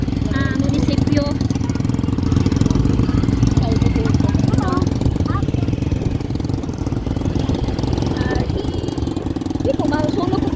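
A motorcycle engine runs steadily at close range, a constant low rumble throughout, with people talking over it.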